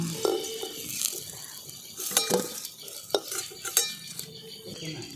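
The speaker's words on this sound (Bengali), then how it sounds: "দেখুন বেগুনগুলোকে লাল লাল করে ভেজে নিয়েছি, এরপর আমি তুলে নিচ্ছি।" Fried eggplant is lifted out of a pan, with irregular metal clinks and scrapes of a utensil against the pan over a soft sizzle of hot oil, close and moderately loud, with no talking.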